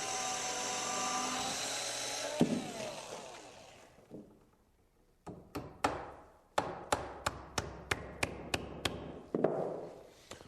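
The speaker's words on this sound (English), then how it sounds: "I'm using a nail here for a drill bit" A small drill fitted with a nail as its bit whines steadily for a couple of seconds while boring into wood and stops, followed by a string of sharp, separate taps.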